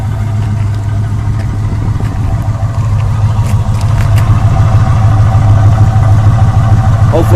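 A 1972 Chevelle's engine idles with a steady, deep rumble close to the mic, growing slightly louder partway through, with faint background noises over the engine.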